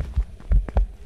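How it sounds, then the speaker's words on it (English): Low thudding heartbeat in a horror video game, several dull pulses in an uneven rhythm, fairly loud and close with no talk over it. "Oh, there's a heartbeat."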